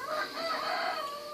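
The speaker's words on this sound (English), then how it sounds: "the roosters here are mine also" Roosters guarding a farm perimeter crow in a drawn-out, bright call, fairly close and steady, with no talk.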